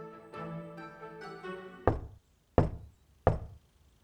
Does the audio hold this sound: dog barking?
no